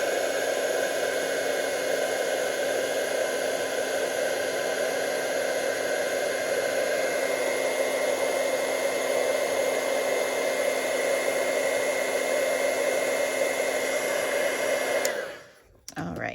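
A heat tool blows a steady, loud whooshing hiss over white embossing powder for about fifteen seconds, cutting off abruptly near the end with a brief residual whir.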